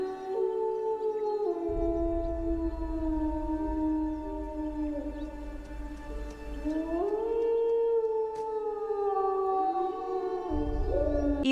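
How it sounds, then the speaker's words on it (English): Several wolves in an animated film howl mournfully together, long sustained rising and falling tones layered into a loud chorus with a steady low rumble beneath, no talk. "the wolves begin mournfully howling"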